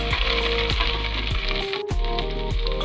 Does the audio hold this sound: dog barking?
no